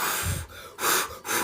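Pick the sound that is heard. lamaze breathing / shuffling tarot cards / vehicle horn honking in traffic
lamaze breathing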